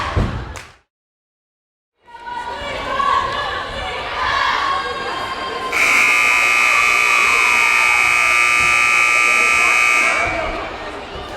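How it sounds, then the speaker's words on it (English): Crowd noise in a large hall at a Springfield volleyball match, then a loud, steady electronic buzzer blares continuously for several seconds before cutting off. "Seriously, that was a long buzzer."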